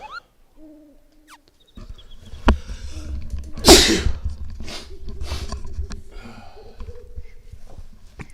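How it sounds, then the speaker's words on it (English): A single sharp sneeze bursts out in the middle of a stretch of low background sound, and faint game music and quiet tones run around it. "Gosh, I gotta sneeze so bad and I can't do it."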